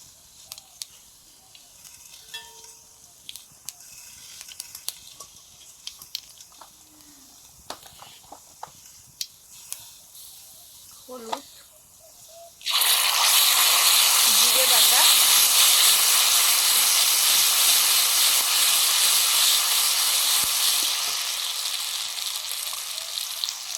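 Cumin hits hot mustard oil for hilsa tel jhal with a sudden loud, hissing sizzle that holds steady and close for about ten seconds, after quieter kitchen clatter and handling sounds.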